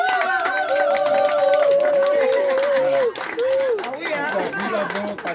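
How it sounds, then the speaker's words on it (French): An audience claps and cheers for the patroness of the Boisdebene-Ebbehout association, a close crowd applauding at an indoor gathering under a voice speaking over it, with chatter mixed in. "j'aimerais bien un grand applaudissement pour notre marraine qui est"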